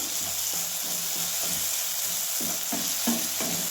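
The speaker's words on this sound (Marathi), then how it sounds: "तेलात असा मसाला चांगला भाजायचा" Red chili masala roasts in oil for an okra dish, a continuous bright sizzle with rhythmic spoon scrapes and stirring knocks against the pan, close up and unaccompanied by speech.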